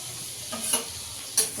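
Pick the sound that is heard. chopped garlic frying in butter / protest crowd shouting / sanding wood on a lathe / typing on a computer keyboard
chopped garlic frying in butter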